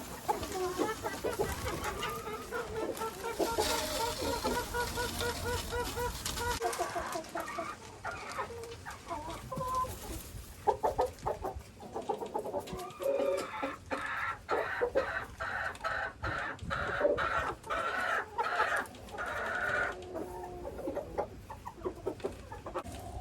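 Laying hens cluck steadily in a coop, a dense mix of overlapping clucks and squawks from several birds, close and continuous, with bursts of scratching and rustling straw in the second half.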